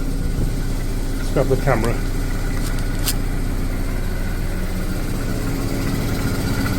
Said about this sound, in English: Oh, idling nicely. It's about 800 or 900 RPM.